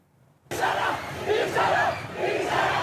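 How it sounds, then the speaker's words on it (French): A large, frenzied crowd of protesters in central Tehran erupts into loud, sustained shouting and chanting. The roar starts abruptly and swells in waves, dense and close. "En plein Téhéran, des policiers à moto battent en retraite face à une foule déchaînée."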